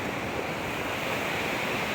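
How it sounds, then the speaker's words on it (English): A river feeding into Ross Lake in the North Cascades gives off a steady, broad rushing wash, close and unbroken for a couple of seconds, with no voices. "All I gotta do is cross this river that feeds into Ross Lake."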